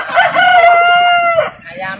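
A rooster at a chicken seller's stall gives a loud, close crow with one long sustained note, while other chickens cluck and rustle faintly underneath.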